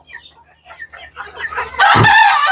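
Native hill chickens on a farm cluck in short, scattered bursts, and then a rooster breaks into a loud, close crow at the end.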